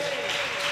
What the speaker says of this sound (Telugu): సంతోషంగా చప్పట్లు కొట్టండి.